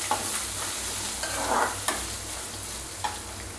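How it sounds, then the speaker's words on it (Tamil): Finely chopped medium onions frying in a pan for a raw banana dish, a continuous close sizzle broken by scraping stirs and occasional clinks, with no talking. "அந்த 2 வெங்காயத்தையும் சின்ன சின்னதாக கட் பண்ணிட்டு இதை போட்டு கலரிக்கு."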